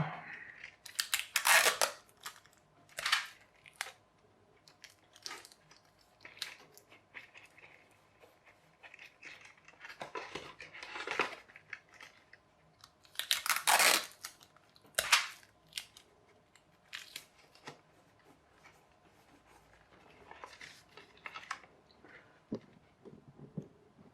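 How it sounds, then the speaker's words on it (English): Tape being pulled off and pressed over parts of a simple gravity-powered toy car, heard close up as a string of sharp tearing and crackling bursts with quieter gaps between them. "Need to put some tape over them."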